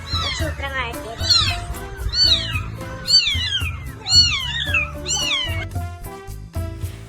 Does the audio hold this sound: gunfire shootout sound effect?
no